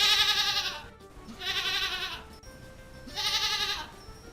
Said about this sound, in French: Oui, tu as raison, c'est une chèvre.